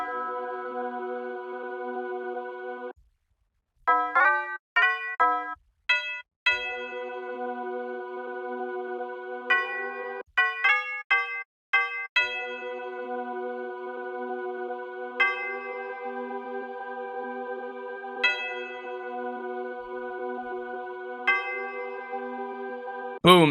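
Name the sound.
bell melody in a Detroit trap beat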